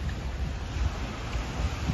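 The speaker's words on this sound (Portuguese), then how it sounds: "dá para se ouvir até o barulho da onda" Waves wash steadily on a large freshwater lake on a windy day, a continuous low surging rush mixed with gusty wind noise and no voices.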